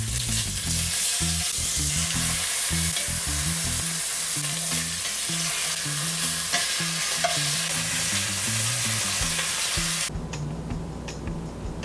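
Oxtail pieces sear in a hot pan, a loud, dense and continuous sizzle heard up close, with low background music beneath and a sudden drop in intensity near the end.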